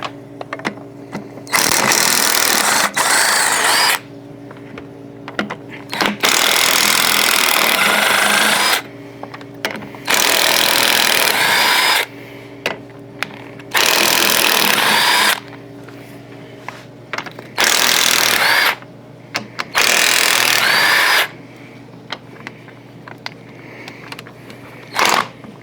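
Power tool spinning bolts out of a CFMOTO ZForce 950 engine during teardown, repeated loud whirring bursts of a few seconds each with short gaps between, close up and without speech.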